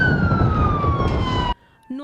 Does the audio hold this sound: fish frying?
no